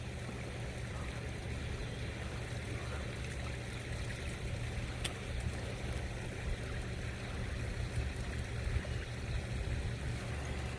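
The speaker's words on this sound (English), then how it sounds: "that really makes the running water noise sound good out here" Steady running water trickles and splashes at a backyard koi pond with a skimmer, a constant near wash with no pauses and no voices.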